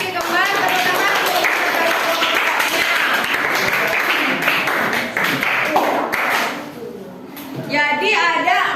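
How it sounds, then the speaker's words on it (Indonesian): Students clap in a classroom after a chemistry answer, a dense patter of hands that runs steadily for most of the stretch, dips briefly near the end, and has voices talking over it. "Tepuk tangan"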